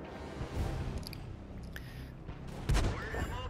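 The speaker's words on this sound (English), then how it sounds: "puts a nice shot into the KV1, sets him on fire" Cannon fire in a tank combat video game as a shot strikes a KV-1 tank and sets it ablaze: a dense, rumbling battle bed with a sharp heavy boom near the end.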